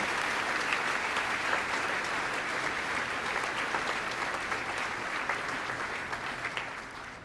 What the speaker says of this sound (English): Would you applaud them?